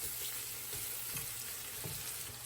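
Bacon with vegetables and squash sizzles steadily in a pan, a continuous dense crackle with a few soft stirring scrapes, close and fairly quiet, with no voices.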